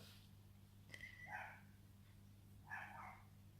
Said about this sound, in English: It's my next door neighbour's dog.